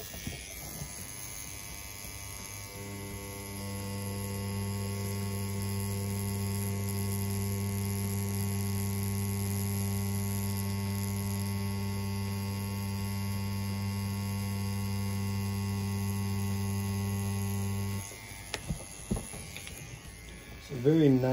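A CNC P6 tattoo machine runs while lining, giving a steady electric buzz with a low hum for about fifteen seconds. It stops, and a few brief clicks follow.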